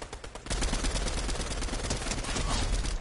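Rapid automatic gunfire from the battle royale video game Fortnite, a dense continuous burst of shots starting after a short quiet half second and running loud to the end.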